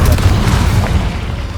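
Confringo spell blast in the Hogwarts Legacy video game, a loud, sustained booming rumble with a heavy low end that rolls on steadily and fades slightly toward the end.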